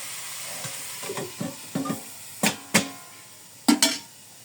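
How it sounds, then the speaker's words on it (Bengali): Hilsa fish fries in its own melted oil along with vegetables, with bursts of sharp sizzling and crackling as pieces are stirred and turned, loud spitting spikes rising over a soft background hiss, no voices. "মাছের তেলেই মাছের ভাজা করে নেব"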